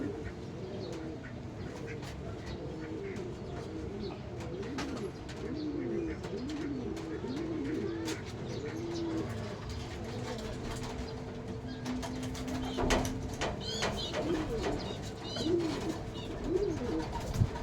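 Pigeons cooing in a loft, repeated soft rolling coos overlapping throughout at a moderate distance, with faint background noise and a few louder calls near the end.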